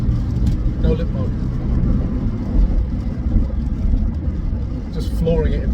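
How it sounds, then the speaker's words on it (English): A car's engine at full throttle in fourth gear, heard from inside the cabin of a cheap used car: a steady low drone with road rumble throughout, and a person talking over it. "Just flooring it in 4th gear."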